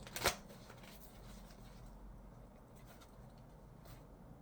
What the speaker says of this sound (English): Get some cards from the Oracle Tarot